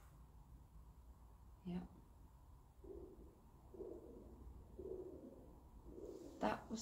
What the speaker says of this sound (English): The pigeons are in there.